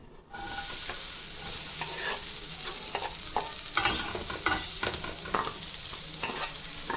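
Cut jackfruit pieces stir-fry in ghee in a pan, giving a loud, continuous close sizzle that begins abruptly, with repeated scraping and clattering stirs of a spoon growing busier toward the end; no speech.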